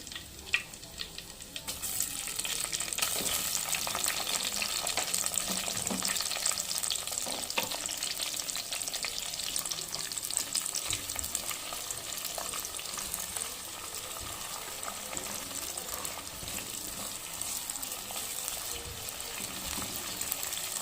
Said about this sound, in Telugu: ఆయిల్ హీట్ అయిందండి, మనం ఆనియన్ యాడ్ చేద్దాం